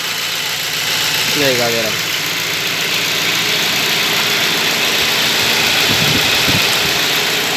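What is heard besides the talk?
car engine idling, belt noise stopped after pouring water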